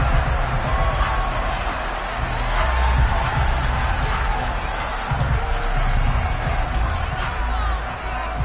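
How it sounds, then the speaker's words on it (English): A stadium crowd at a USFL football game roars and shouts steadily while watching a replay, a dense continuous wash of cheering with a commentator talking over it. "Plenty of shouts from this crowd as they watch the replay."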